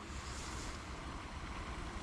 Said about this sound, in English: I'm standing here and I could hear another waterfall.